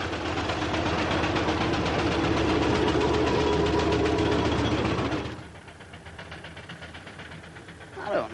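A steam engine runs loud and close with a rapid rhythmic chuffing beat, then drops sharply to a quieter low rumble partway through.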